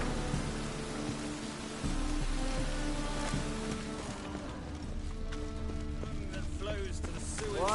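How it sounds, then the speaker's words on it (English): Steady rain falls in The Witcher 3: Wild Hunt, a continuous hiss alongside game music and ambient sounds, with a brief character voice near the end. "It's raining again."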